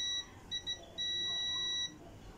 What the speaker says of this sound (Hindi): यहाँ पर देखिए बीप आ रहा है